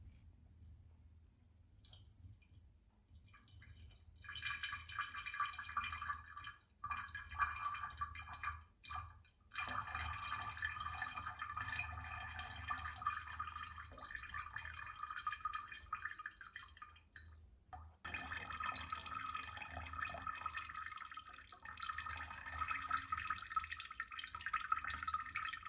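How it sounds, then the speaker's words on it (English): Prune liquid poured through a metal sifter trickles and drips steadily into a bowl, quiet and close, with a short pause and a few splashy surges along the way. "I'm going to pour it through the sifter and make a prune juice."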